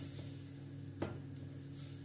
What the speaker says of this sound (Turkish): Tereyağımı içerisine koyuyorum ve eritmeye başlıyorum.